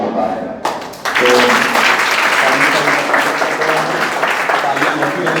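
Audience applause at a coaching class gathering, a dense burst of clapping that starts sharply about a second in and continues steadily and loudly to the end.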